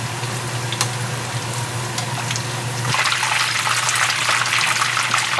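Eight-treasure meatballs deep-fry in hot oil while oil is ladled over their tops, producing a close, continuous crackling sizzle that grows louder and more bubbly partway through.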